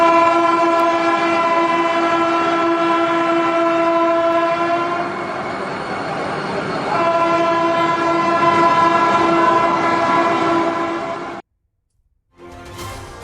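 A Vande Bharat Express train on the Katra–Srinagar line sounds a long, loud, sustained horn blast for about eleven seconds, then cuts off abruptly, with a brief burst of sound just after.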